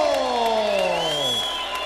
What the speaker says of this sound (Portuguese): uma salva de palmas para Norma